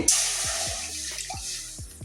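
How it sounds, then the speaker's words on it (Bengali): Water pours and splashes into a wok, with small drips and plops scattered over a steady wet rush, close by. "কড়াই একটু জল দিয়ে দিচ্ছি।"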